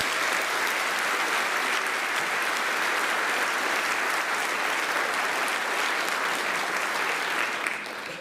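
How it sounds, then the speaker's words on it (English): Sustained, dense applause from a large audience, steady and loud for several seconds before tapering slightly at the end. "Give them a nice round of applause."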